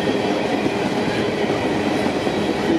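An empty coal train led by a pair of AC44C6M locomotives rolls past close by, making a loud, steady rumble of cars on the rails with faint clickety-clack and no talk.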